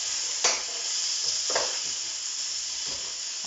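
A meat mixture for a mock moussaka is turned through in a sizzling pan, with steady frying hiss and several sharp scrapes of the utensil against the pan, close and without speech.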